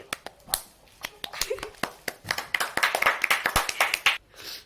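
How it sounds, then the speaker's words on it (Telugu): Scattered, uneven hand claps from a small group after a paper-glasses party game is won, sharp and close, with light chatter underneath. "చప్పట్లు"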